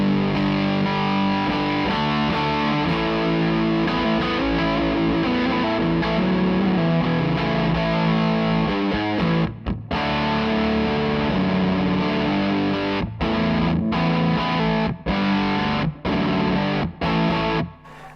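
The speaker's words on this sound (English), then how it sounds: "Next we have the Thorpey Veteran Fuzz, which sounds like this." A guitar played through a Thorpy Veteran Fuzz pedal churns out thick, saturated fuzz distortion in a steady riff, loud and continuous with brief choppy gaps near the end, no talking.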